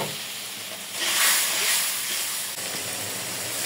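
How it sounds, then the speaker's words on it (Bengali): A spice paste of cumin, coriander and dried chili fries in hot oil in a pan, giving a loud, steady sizzle and hiss that swells briefly, then settles, with no voices. "মশলাটা কষাই নেব।"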